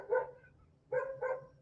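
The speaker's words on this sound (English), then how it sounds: "That dog is fucking annoying." A dog barks three times: one bark, a short pause, then two quick barks in a row, clear and moderately close, with no talking.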